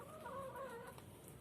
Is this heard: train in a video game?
no